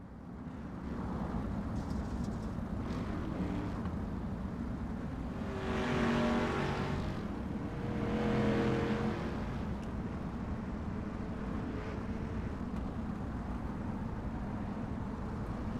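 Street stock race cars at a short-track restart build a steady engine drone, with two louder surges as packs of cars roar past and fade, no voices.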